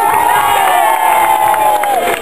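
Spectators at a jousting tournament at Lulworth Castle cheer and shout together in a brief, loud burst of crowd noise that stays dense and continuous.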